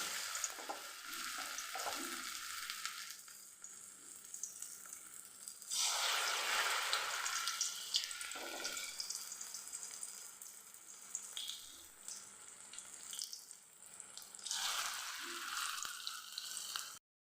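Drumstick leaf fritters frying in hot oil give a steady crackling hiss that swells into louder sizzling bursts now and then, close by with no voices.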